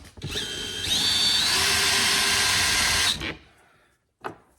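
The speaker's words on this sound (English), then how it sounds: "so I just put it on my drill. And then we're just gonna remove these." A power drill whirs steadily at close range for about three seconds removing Torx screws on a Ford Bronco, then winds down, followed by a brief second burst.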